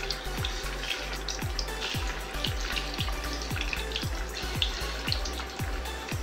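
Pieces of katla fish fry in oil, giving a steady crackling hiss. Soft, regular ticks repeat about twice a second underneath.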